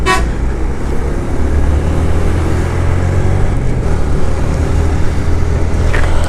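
Heavy traffic crowds a congested road on a foggy winter morning, with a dense, continuous engine rumble and a horn toot at the very start.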